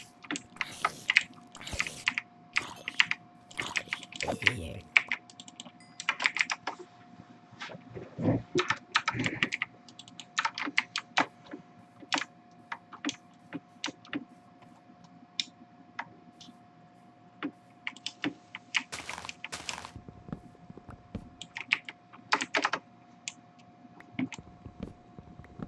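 Someone types on a computer keyboard, close up and fairly quiet, in clattering bursts of keystrokes broken by short pauses, with no voices.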